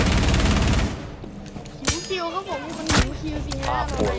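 Gunfire in Rainbow Six Siege opens with a loud rapid burst of automatic shots, then single sharp cracks follow amid excited talking.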